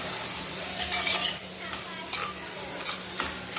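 Spices and fresh coriander stirred as they roast in a pan for a Marathi river fish curry, with a steady close sizzle and repeated scraping strokes of a spoon against the metal.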